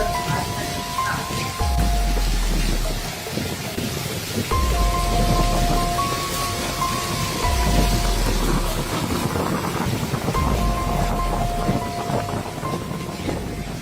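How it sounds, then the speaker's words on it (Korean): Hail and heavy rain pound windows and car roofs during a storm in Shanghai, a dense, continuous loud rattling downpour with deep rumbling swells recurring throughout. "우박이 유리창과 차량 지붕을 두드리며 타닥타닥 거센 소리를 냈습니다"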